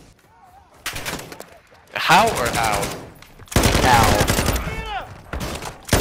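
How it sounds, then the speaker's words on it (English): Bursts of rapid automatic gunfire in Call of Duty: Modern Warfare II, loud rattling volleys in two long stretches with quieter gaps, while a player talks briefly over them. "I only hear gunshots"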